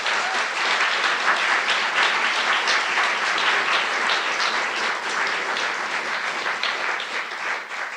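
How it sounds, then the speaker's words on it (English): An audience applauds speakers at the close of an event, a dense, loud, sustained wash of clapping that holds steady for several seconds before easing slightly at the end. "So can we have a big round of applause and thank you to our speakers."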